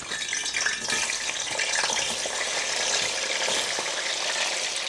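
Potato chips deep frying in hot oil for an Irish spice bag, a loud, dense, steady sizzle and crackle that holds close and even throughout, with no voices.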